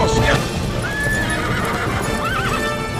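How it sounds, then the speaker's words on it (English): Horse from the animated film Tangled giving a shrill neigh over clip-clopping hooves, with dialogue and score playing underneath. "These horses have no choice but to do what the humans tell them to"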